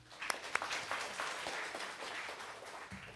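Audience applause welcoming a speaker at an e-learning education conference in Korea, a soft, fairly distant patter of clapping with a few sharper claps early on, fading gradually.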